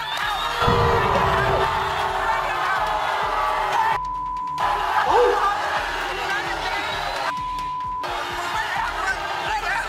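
A talk-show studio audience cheers, whoops and shouts loudly as a guest is called out, a rowdy continuous roar broken by two brief censor beeps.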